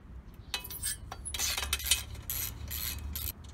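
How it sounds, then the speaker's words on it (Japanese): Metallic clicks and ratcheting as a 5 mm hex wrench loosens bolts on a Honda CRF250L motorcycle, several close, uneven bursts of tool noise over a low hum. "サイドカバーの時と同じ、5ミリ、六角レンチで外れます。"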